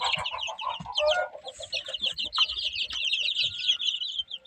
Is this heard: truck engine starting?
no